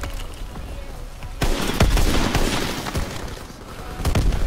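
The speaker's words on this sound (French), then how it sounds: "on va finir avec le snipe pour vous montrer un peu ce snipe" Gunfire in a WWII video game where a sniper rifle is used, a burst of sharp overlapping shots and booms against a busy battle din, loud and close, with no talking.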